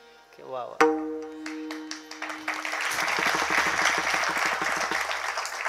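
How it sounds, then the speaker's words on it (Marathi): A Marathi speech audience breaks into applause after a line praising Shivaji Maharaj and Jijau, clapping swelling from scattered claps into sustained, fairly loud applause over a low hum. "एकच वाक्य बोललो, टाळ्या झाला."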